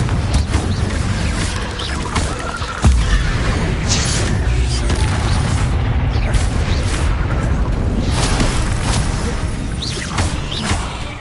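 Repeated Confringo spell blasts in Hogwarts Legacy, loud booming explosions over a dense rumbling battle, with a sharp hit partway through and crashing debris throughout.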